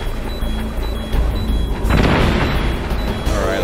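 A bomb blows up in Metal Gear Solid with a sudden broadband boom and a crashing burst. A rumbling tail follows it, and the blast rises out of a dense, noisy background.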